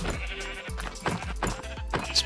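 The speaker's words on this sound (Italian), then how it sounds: "Pecore! Pecore!" Sheep in Minecraft bleat several times in quick succession, close and fairly loud, each cry a short wavering baa, with no talking over them.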